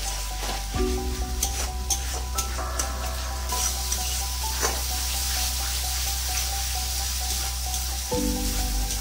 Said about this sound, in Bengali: এবার দিয়ে দেবো টমেটো পেস্টটা।